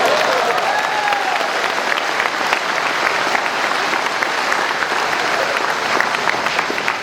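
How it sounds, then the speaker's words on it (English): Sustained audience applause at a formal speech event, a dense, steady wash of many hands clapping loudly and continuously without a break. "the loudest claps are for Dato Sri Miza"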